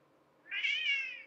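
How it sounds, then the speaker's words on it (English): One drawn-out cat meow, close and fairly loud, swelling then tapering off at the end, alone in a quiet room without speech. "that was a cat"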